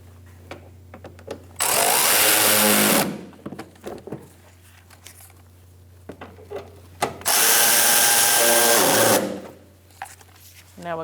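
A power ratchet snugs up bolts while replacing the serpentine belt on a 2012–2018 Ford Focus 2.0L four-cylinder, two loud buzzing bursts of about one and a half and two seconds, separated by quieter clicks and handling noises.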